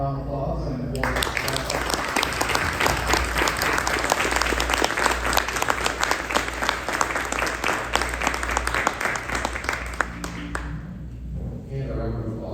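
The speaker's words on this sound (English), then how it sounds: "give one final round of applause" An audience at a Corvette performance engine build center demo gives the engine builders a sustained round of applause, many hands clapping steadily and loudly for about ten seconds before fading.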